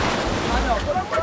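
Ocean surf washes in at a beach where people are playing football in the sea, a rough broadband rush of breaking waves mixed with wind buffeting the microphone, fairly loud and close.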